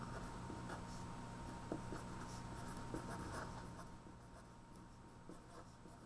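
Pen or marker writing out a math word problem: quiet, close scratchy strokes and taps in short irregular bursts over a faint steady hum.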